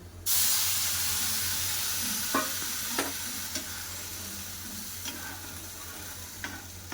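Boiled dal hits a pan of well-fried onions with a sudden loud sizzle, which settles into a steady hissing fry broken by a few sharp scrapes of stirring.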